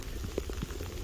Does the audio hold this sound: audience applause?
no